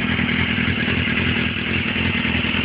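Motorcycle engine running steadily through a first ride, a loud, continuous mid-pitched drone with a rough, clattering texture and no pauses.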